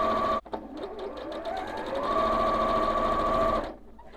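A sewing machine stitches quilt top sections together on the last row of a Carpenter Star quilt, running in a steady, close, continuous whir after a brief pause at the start.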